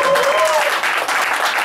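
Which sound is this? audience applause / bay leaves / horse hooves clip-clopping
audience applause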